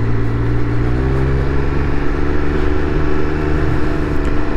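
A Triumph Speed Triple 1200RR motorcycle is ridden, its engine droning loudly and steadily up close with a dense low rumble and no voices over it.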